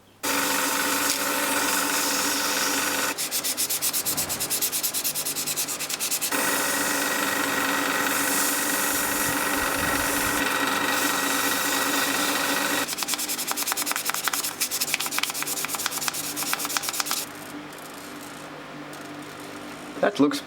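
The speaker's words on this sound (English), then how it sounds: "Now all the grain has been filled in, we can proceed with our sanding." A zebrawood pen blank is sanded while spinning on a lathe, a loud continuous whirring hum with steady rubbing hiss that shifts in texture a few times before easing near the end.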